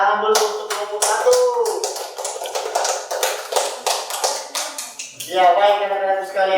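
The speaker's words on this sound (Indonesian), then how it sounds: "Tepuk tangan dulu untuk kelompok 1." Classroom of students clapping together for a student group, a dense burst of many hands applauding that swells and fades over several seconds, with a few voices calling out near the end.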